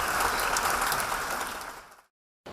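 Audience applause at a performance of the opera Carmen, a dense wash of clapping that stays steady, then fades and cuts off near the end.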